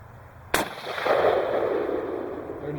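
An AR-15 rifle fires a single 5.56 round outdoors, a sharp crack followed by a long rolling echo that fades slowly.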